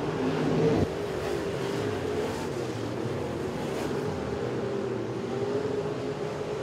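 Modified race cars roar around the track at Moler Raceway Park, a steady loud engine drone with a louder pass at the start, then a continuous rumble of several cars under the race noise.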